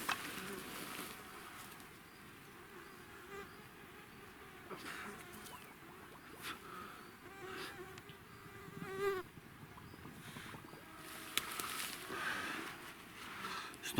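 Mosquitoes swarm in a forest beside a running stream, their thin, continuous buzz hovering close around the listener with faint rustles mixed in, and no voices.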